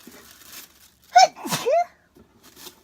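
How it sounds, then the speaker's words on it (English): A single loud sneeze with a sharp, almost screaming burst, followed by a brief trailing exhale, standing alone against quiet background rustle during a figure unboxing. "I'm gonna sneeze. It's gonna happen."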